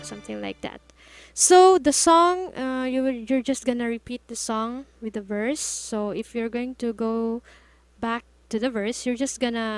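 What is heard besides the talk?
None of the usual background noises is heard.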